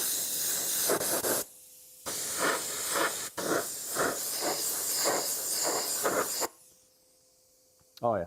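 Parma Fast Color fluorescent orange spray paint hissing from an aerosol can onto an RC car body in repeated close bursts, with short pauses between passes and a brief rattle near the end.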